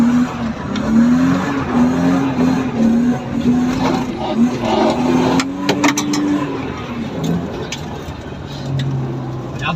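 A car drifting at a drift outing: a steady, loud engine drone runs close by throughout, with sustained tire squeal and skidding rising and falling over it.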